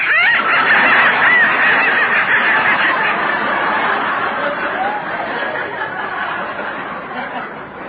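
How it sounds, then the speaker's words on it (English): Live ducks kept in a basement quack and honk in a loud, continuous, overlapping chorus that gradually fades toward the end. "that noise came from some live ducks I got in the basement."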